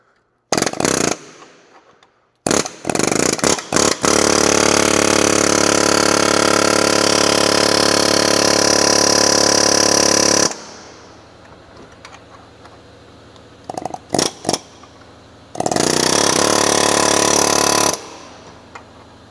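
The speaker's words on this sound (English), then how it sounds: "use the chisel bit and try to just make a notch into the side of the axle so I have something to drive off of" A power chisel bit hammers a notch into the side of the front left CV axle on a 2009-2013 Toyota Matrix, Corolla or Pontiac Vibe 2.4L. Short rattling bursts lead into a long, loud, close run of hammering, then a quiet gap and one more burst.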